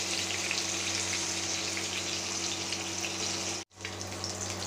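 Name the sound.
fish frying in oil over low heat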